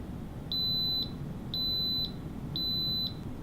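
A Pampered Chef Quick Cooker timer beeps three times, evenly spaced, each a steady high electronic tone lasting about half a second over quiet room noise.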